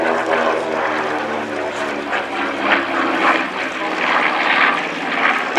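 Piston engines of a B-25J bomber drone steadily at an air show, a continuous propeller roar with some crowd or voice noise mixed in throughout.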